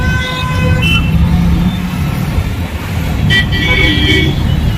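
Heavy, dense road traffic runs along a beachfront street, engines rumbling continuously up close while several car and bus horns toot in short bursts, with voices in the crowd.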